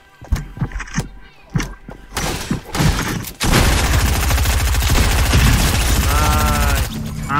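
Several separate gunshots ring out in Fortnite Chapter 2, followed by dense, continuous rapid fire from about the halfway point, loud and close, with some thuds mixed in.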